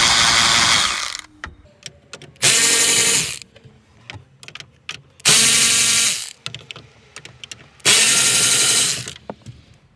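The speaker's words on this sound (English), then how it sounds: "to remove our radio assembly, we're going to take out 4 7mm screws" Four loud bursts of a power drill backing out 7mm screws from the radio assembly of a 2004–2007 Ford F150, each run lasting about a second, with quiet ratchety clicks and handling noise between them.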